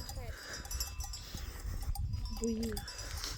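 Cattle bells clank irregularly in the background amid strong wind and outdoor rustling near a tent on a ridge of Mount Khomiak in the Carpathians, with a low cow call near the end.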